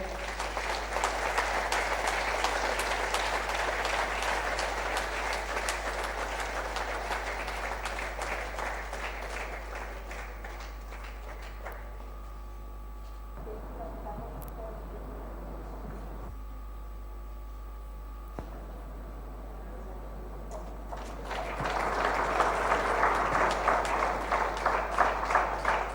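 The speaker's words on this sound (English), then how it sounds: "A huge round of applause, ladies and gentlemen." Audience applause at an award ceremony: steady clapping at first, a quieter lull in the middle with low background hum, then the clapping swells again near the end.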